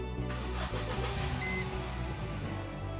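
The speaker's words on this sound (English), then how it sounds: "Engine runs sweet." A car engine, after an error reset, cranks and catches, then settles into a steady idle. The sound is fairly quiet and close by, with a brief mechanical whir at the start.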